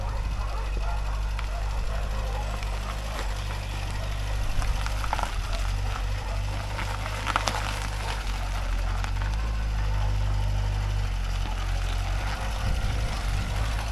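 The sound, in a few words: Ford Escort Mk4 engine idling roughly, carburettor problem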